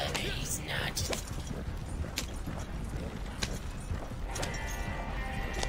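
Rhythmic clip-clop of a horse's hooves galloping at a fast pace in the video game Red Dead Redemption 2 Online, steady throughout, with a person talking over it and some background game noise.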